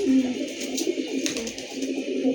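Racing pigeons in a breeder's loft give soft, low, rolling coos close by, repeated throughout a short stretch with no talk.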